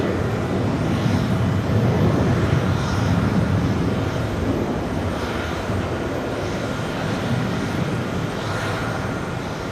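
A large airliner comes in to land at JFK Airport on a hot day, its broad low engine roar steady and fairly loud throughout, with no voices over it.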